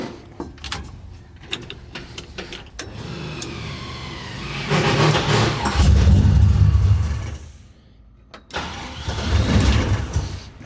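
A Mazda RX-7 FC rotary engine with a troublesome throttle body cranks and starts up, settling into a rough, rumbling idle that swells, dips and surges again, heard up close.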